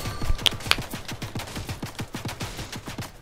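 Gunfire from the Fortnite video game: a rapid, even burst of close shots repeating steadily for a few seconds, with a couple of sharp higher clicks near the start.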